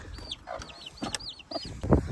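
Chickens cluck in short bursts with a rooster's calls mixed in, close by, over scattered background noise and no talking.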